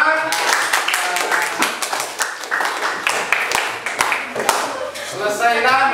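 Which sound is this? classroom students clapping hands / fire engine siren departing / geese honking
classroom students clapping hands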